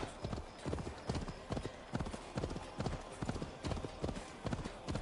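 A horse gallops in Assassin's Creed Valhalla, its hooves pounding in a steady, rapid rhythm for several seconds, loud and close with game ambience underneath.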